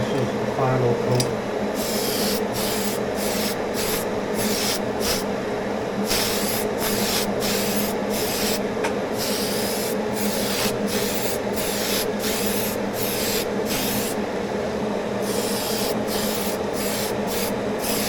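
Short repeated bursts of aerosol spray paint laying the final coat on a Tamiya Volvo FH16 timber truck scale model, a steady hissing run of sprays, close and fairly loud, with brief pauses between passes.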